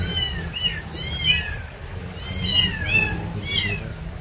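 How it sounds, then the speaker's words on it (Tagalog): Several cats meow repeatedly, overlapping high plaintive cries coming in clusters over a low background hum. "gutom yung pusa."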